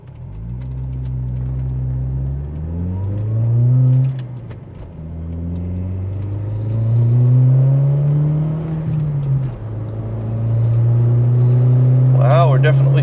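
VW Mk4 with a 1.8T turbo engine on 91 octane pump gas accelerating hard under boost, rising engine tones through several gear shifts, loud and close from inside the car, with a short sharp turbo flutter near the end.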